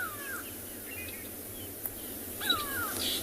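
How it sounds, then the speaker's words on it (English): Grey go-away-birds call agitatedly on a South African morning safari, their harsh, rising cries coming in a few separated bursts over a quiet outdoor hush. "can you hear the goa birds are going mental?"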